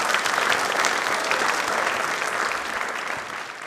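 A studio audience at a televised Ambedkar Jayanti quiz programme breaks into loud, steady applause, a dense clatter of clapping that tapers slightly toward the end.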